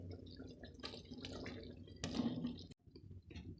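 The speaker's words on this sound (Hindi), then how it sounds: "इसलिए हम इसके अंदर 1 कप के करीब पानी ऐड करेंगे" About a cup of water is poured into a pan of sauce for chicken Manchurian, giving a close, steady liquid splash and sizzle that swells briefly midway, with no talking.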